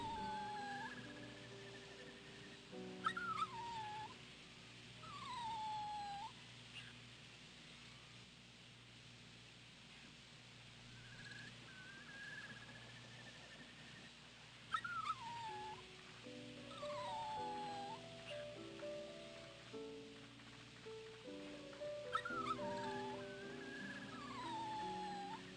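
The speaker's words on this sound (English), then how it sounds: "Doggo!" A dog whimpers in the video game Rule of Rose, with faint whines recurring every few seconds over a soft, sustained musical backdrop.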